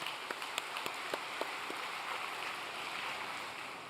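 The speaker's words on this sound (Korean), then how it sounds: "다시 한번 우리 마스무라 히로아키 수련생에게도 큰 격려의 박수 부탁드립니다" A crowd applauds to encourage a trainee at a church gathering, a soft even patter of many hands that starts with a few distinct claps and then settles into a steady wash, fairly distant and with no talk.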